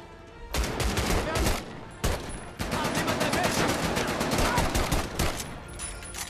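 Rapid gunfire from a weapon in the VR game Medal of Honor: Above and Beyond, inside a hydro plant turbine room, sounding as dense, loud bursts of shots that run almost without pause, with brief breaks between volleys.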